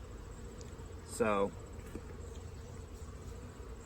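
Honey bees buzz steadily around an open hive, a continuous close drone that carries on under a brief spoken word.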